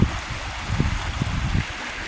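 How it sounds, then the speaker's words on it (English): Water running through a creek ditch in thick forest, a soft, steady rushing flow heard close with faint low thumps, no voices. "So we got the water running through here now"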